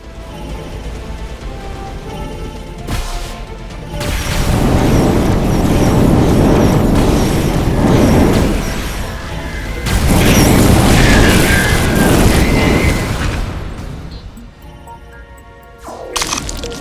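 Buildings being destroyed in the video game The Riftbreaker: loud, sustained explosive rumbles and cracking crashes, with two long waves of booming destruction and sharper breaking bursts at the start and end.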